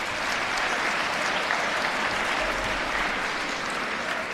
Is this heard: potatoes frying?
no